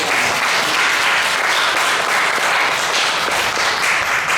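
A church congregation at a Sunday worship service in London applauds together, a steady, full roll of many clapping hands sustained evenly from start to finish.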